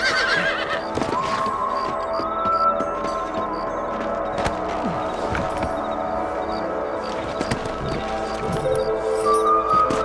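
In the video game Red Dead Redemption, horses whinny repeatedly over a busy bed of galloping hooves and background music, the calls rising and falling across the scene.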